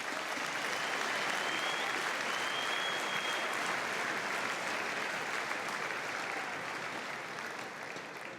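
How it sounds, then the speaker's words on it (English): Audience at a tournament in Metz, Moselle, giving organizers sustained loud applause, dense steady clapping throughout that eases slightly toward the end. "je voudrais que vous les applaudissiez bien fort"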